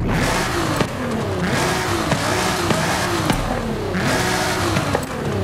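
Nissan R35 Nismo with an installed aftermarket exhaust in the racing game Forza Horizon 5, revving repeatedly through rising and falling engine sweeps with sharp shift cracks, loud and close with no talk.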